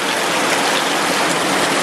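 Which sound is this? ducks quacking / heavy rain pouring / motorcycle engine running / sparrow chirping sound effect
heavy rain pouring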